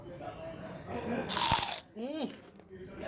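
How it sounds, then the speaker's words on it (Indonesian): Someone bites into a crunchy rice cracker (kerupuk) made from ground rice: a single loud, close crunch in the middle, with voices talking before and after it. "Nah, ini adalah tes kriuk."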